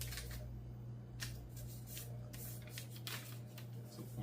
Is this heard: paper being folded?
yes